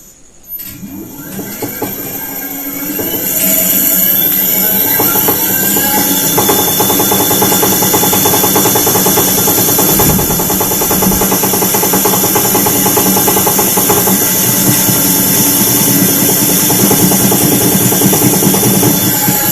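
Electric bike with a 72V 2kW 17-inch hub motor kit running at top speed, a loud steady whine and mechanical hum that builds over the first few seconds, then holds with rattling and a brief dip.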